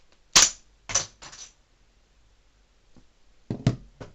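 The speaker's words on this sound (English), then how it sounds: "You pull the bolt out until you see that click, in which the bullet will be in the barrel. Then aim and then fire." A LEGO bolt-action pistol snaps and clicks: a sharp firing crack, then a couple of lighter clacks, a pause, and a cluster of close plastic clicks near the end, with no talking.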